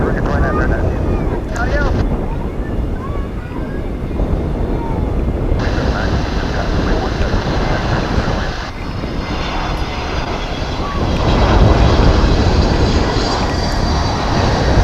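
An American Airlines jet arriving from Orlando to land at DFW Airport, a loud continuous engine roar with rushing wind noise that shifts in tone as the plane passes and swells near the end.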